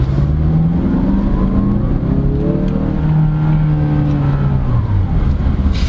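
A 2018 Mazda CX-9 2.5 Grand Touring AWD SUV accelerating on the road, a steady engine drone rising in pitch through several smooth gear changes, with road and tire rumble underneath, heard from inside the cabin.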